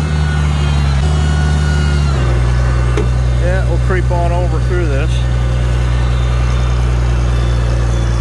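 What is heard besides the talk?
Farmall 756 tractor engine plowing snow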